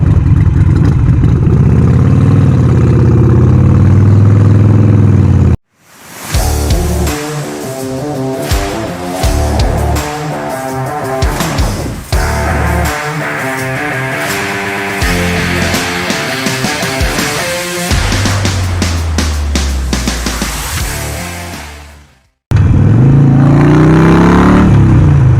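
A Harley-Davidson Sportster 48 motorcycle engine runs loud and close, idling with a steady throb, then revving and accelerating through a long middle stretch, with brief abrupt cuts to near-silence before the engine returns.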